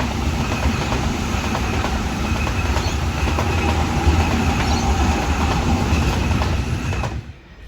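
A Sydney suburban train rolls through Petersham station, a loud, steady rumble with rail clatter and wheel noise that holds for about seven seconds before cutting off abruptly.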